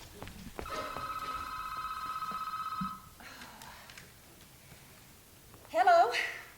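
A telephone rings for about two seconds with a steady electronic trill, then stops; a voice follows briefly at the end.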